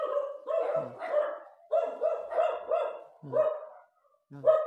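A dog barks in a series of loud, close yapping bursts in quick rhythm, with a short pause before a final bark.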